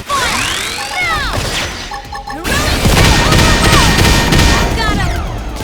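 Gunfire erupts in a Xenoblade Chronicles X: Definitive Edition battle, with loud, dense bursts of shots and impacts running the whole time, layered over battle effects and game music.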